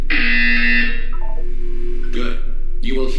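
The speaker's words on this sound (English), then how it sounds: "You will hear a buzzer." A loud, sustained electronic buzzer tone in the Portal 2 game, followed by two shorter buzzes, with a voice speaking between them.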